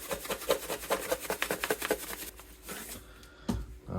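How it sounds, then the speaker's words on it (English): Morton's iodized salt being rubbed by hand into a raw Costco salmon fillet for curing sashimi, soft gritty rasping strokes in a quick repeating rhythm, close and quiet, fading to near silence toward the end. "All right, you can rub that salt in."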